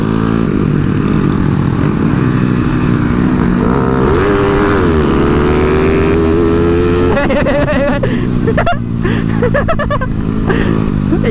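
A motorcycle engine revs hard in first gear, a loud, close, steady drone that swells and shifts in pitch throughout, with voices faintly underneath.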